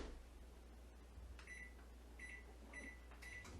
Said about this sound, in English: throw it into the microwave